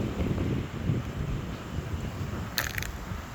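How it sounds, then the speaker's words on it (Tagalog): Strong wind buffets the microphone at a fishing spot, a continuous low rumble and roar throughout, with a short burst of high-pitched noise near the end. "ang lakas ng hangin"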